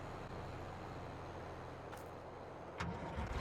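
Steady low engine drone of a tractor in the farming game Farming Simulator 22, a continuous rumble that stays even throughout with a brief swell near the end, no talk over it.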